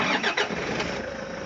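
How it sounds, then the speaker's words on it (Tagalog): A car engine cranks over and catches, the starter's whir quickly giving way to a steady idle that runs on at a fairly quiet, even level. "Okay, subukan natin, paandarin ngayon yung sasakyan mo"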